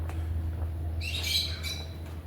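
A single bird squawk, a short harsh call lasting about half a second, rises above a constant low droning background hum somewhere in France.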